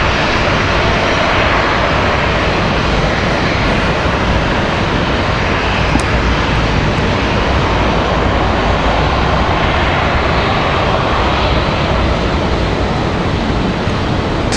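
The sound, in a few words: Spirit Airlines Airbus A321 airliner arriving from Newark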